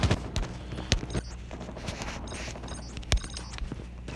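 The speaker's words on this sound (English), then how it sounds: "Hostile sentry gun spotted." Rapid bursts of automated sentry gun fire in Call of Duty Mobile, sharp cracks and clattering shots scattered across the clip amid game noise, with a loud nearby shot near the end.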